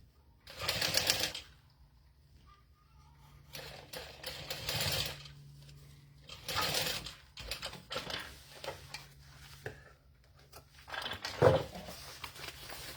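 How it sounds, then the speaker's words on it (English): Sewing machine top-stitching one end of a strap onto a Zip N Go bag, running in several short bursts of rapid stitching separated by pauses, close and moderately loud. "She just wants you to take one end of your strap and top and base stitch it on."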